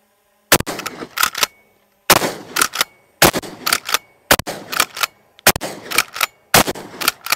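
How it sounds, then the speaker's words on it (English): An ATA Etro 12 gauge pump shotgun firing double aught buckshot: six loud, sharp blasts spaced one to two seconds apart, each followed by quick clacking of the pump action cycling, close and with no voices. "ATA Etro 12 gauge pump, 6 rounds, double op buck."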